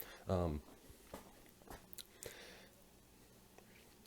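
Someone chews a mouthful of freshly baked homemade banana bread close to the microphone, with a short burst of biting and soft, irregular mastication noises followed by quieter chewing sounds.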